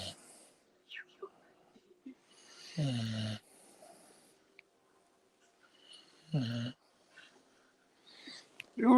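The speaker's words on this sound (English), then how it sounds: "Asleep and snoring nicely next to me" A sleeping dog snores nearby in two loud, rough snorting breaths spaced a few seconds apart, with quiet breathing and soft sounds in between.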